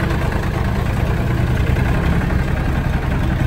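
A small John Deere tractor engine idling up close, a loud, steady low rumble with a constant throb and no change in pace, no voices over it.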